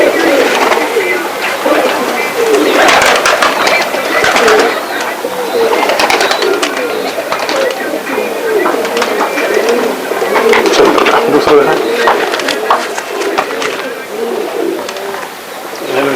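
A crowded flock of pigeons coos continuously up close, layered throaty warbling calls blending into a steady murmur, while people talk intermittently over it.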